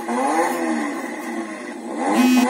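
A switched-on BMW Z4 remote-control toy car plays a loud, continuous engine-like roar that revs and wavers up and down in pitch, close and alone.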